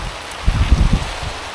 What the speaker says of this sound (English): Well, it's really raining now, pouring down.